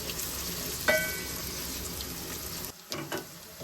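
Onions frying with cumin in a pan, a continuous close sizzle with a sharp clink early on and a brief lull before the frying resumes.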